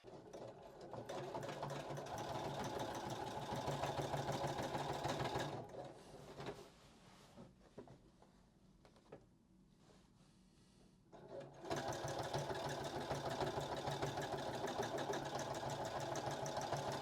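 Sewing machine stitching the collar of a kimono jacket, a loud, rapid mechanical whir that stops partway for a few seconds of quiet handling, then resumes at full speed.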